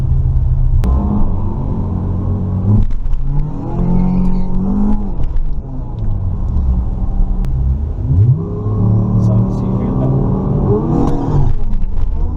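An original 1992-93 Acura Integra GSR engine revs up loudly in several surges, its pitch climbing then sagging and stumbling as it bogs down hard, close and rumbling throughout.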